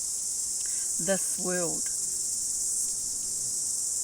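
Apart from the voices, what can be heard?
cicada (kihikihi) song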